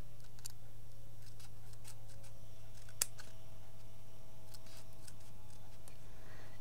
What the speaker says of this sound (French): Vous allez prendre à partir du point du bas et vous allez couper vos bandes comme ça